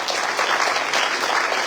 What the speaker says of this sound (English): Please give all of our candidates a big round of applause.